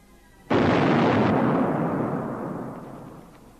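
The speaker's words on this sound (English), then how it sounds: "That, mate, was a ruddy hand grenade." A hand grenade explodes in a vintage British comedy thriller film. It is a single sudden, loud blast that rolls into a long, slowly fading rumble, with no speech.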